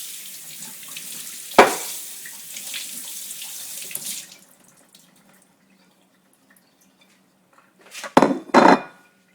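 Tap water runs into a kitchen sink while tomatoes are rinsed, a steady close rush with a clatter of dishes at the start, then a pause before brief bursts of running water and clinks.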